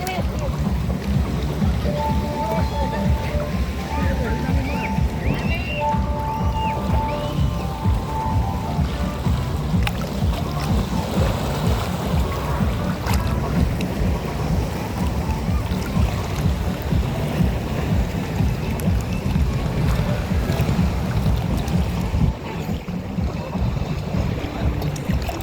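A small boat rocks on waves outdoors, with a steady, dense wash of water and wind buffeting the microphone for the full stretch, easing slightly near the end.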